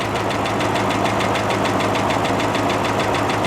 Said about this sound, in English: hear that engine tapping?